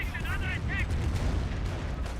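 A Calliope rocket barrage in Company of Heroes, a steady wash of rapid launches and thudding explosions throughout, with a short whistling shriek of rockets near the start.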